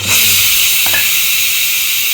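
Loud, steady hiss of steam escaping from a pressure cooker, continuous for the whole stretch with no one speaking.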